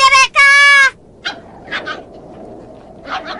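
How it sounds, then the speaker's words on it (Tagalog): In a Tagalog-dubbed anime, a dog gives two loud, drawn-out, high-pitched barks or whines close up, followed by several fainter short yips over a quiet background. "Wow! Ang cute ng aso!"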